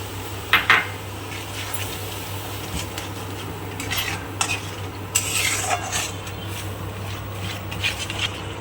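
Spice-rinsing water and nut water go into a sizzling malai paneer gravy in a pan, with a soft sizzle under clinks and scrapes of a metal spoon stirring against the pan, close by and without speech.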